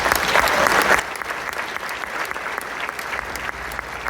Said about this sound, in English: a round of applause for those two one more time